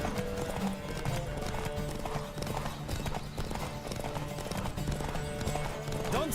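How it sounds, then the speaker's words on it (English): A horse gallops in the video game The Witcher 3, with a steady, close clip-clop of hooves running throughout over a bed of game music and ambience. "Don't spare the horse."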